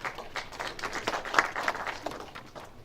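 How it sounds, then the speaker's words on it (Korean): A seminar audience gives a fairly faint, brief round of clapping to welcome a speaker, with scattered hand claps that taper off quickly. "큰 박수로 맞이해 주시기 바랍니다"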